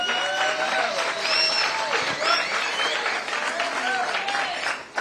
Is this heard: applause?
yes